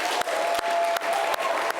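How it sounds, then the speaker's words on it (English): Audience applause at a televised quiz show, steady dense clapping from a large crowd filling the whole stretch. "keep those hands clapping"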